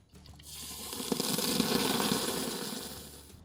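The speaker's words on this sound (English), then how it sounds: "you carefully pour it on the side opposite where you lit the coals" Hot water poured into the water reservoir of a Slow 'n Sear grill insert, a steady close splashing gush that swells after a brief start and then tapers off, with no talking.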